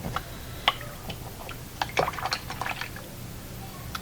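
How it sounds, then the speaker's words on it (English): A paintbrush is rinsed in a water cup, with soft sloshing, light drips and several brief clinks of the brush against the container, close and quiet. "so I'm going to rinse my paintbrush off."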